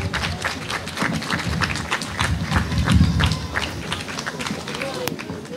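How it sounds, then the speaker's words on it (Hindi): An audience in Pakistan applauds to welcome a speaker at an awareness organization's event, a dense patter of many hands clapping for several seconds amid crowd murmur and a voice. "प्लीज सबसे गुजारिश है कि पुरजोर तालियों के साथ इनका इस्तकबाल कीजिए"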